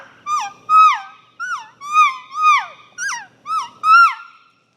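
An orange latex Phelps amp elk call gives a series of about eight high, squealing calf mews. Each falls and bends in pitch, separated by short gaps. They sound loud and close, with no talking.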